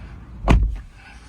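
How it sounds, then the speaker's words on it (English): A single solid thump of a 2024 Suzuki Fronx car door shutting nearby, short and low, with a brief rattle after and quiet cabin background. "close the door."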